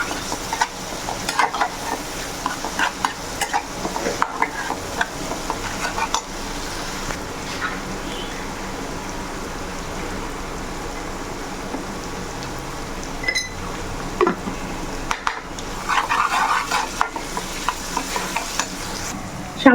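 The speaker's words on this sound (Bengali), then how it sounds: "2-1 মিনিট কষিয়ে নিয়ে বাকি উপকরণগুলো মিক্স করে নিব।" Garlic paste and spices sauté in a pan with a continuous crackling sizzle, punctuated by frequent scraping and clinking stirs of a spoon against the pan, close and steady.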